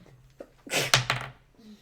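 A short, sharp sneeze bursts out amid a tabletop roleplaying game session, a loud broadband burst flanked by quieter murmured talk around it.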